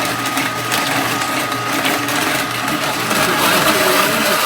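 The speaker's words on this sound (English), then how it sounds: "you're using a meat grinder to make the mash" A meat grinder turns washed olives into mash for pressing olive oil, running as a loud, continuous motorized grind with a churning, crunching texture throughout.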